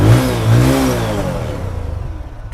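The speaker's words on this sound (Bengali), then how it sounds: "ইঞ্জিন কন্ডিশনটা শুনিয়ে দেবো আমাদের।" Engine of a used N160 motorcycle at a bike showroom revving up loud and close, then settling into a rapid, even idle putter.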